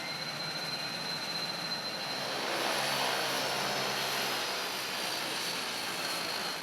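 Twin Otter propeller airplane, built in Toronto and based at Argentina's Marambio Antarctic base, gives a steady, broad engine roar with a faint high whine, holding even and fairly close with no voices.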